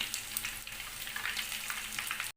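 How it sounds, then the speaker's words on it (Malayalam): Chicken 65 frying in hot oil, a dense, steady crackling sizzle, close and continuous, ending abruptly. "ഇതിപ്പോൾ നല്ലപോലെ ഫ്രൈ ആയിട്ടുണ്ട്."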